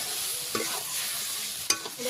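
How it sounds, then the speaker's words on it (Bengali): Fish fries in masala with a dense, close sizzle while a spatula stirs it, scraping twice against the pan. "নাড়াচাড়া করে ভালোভাবে আমি ভাজে দেবো"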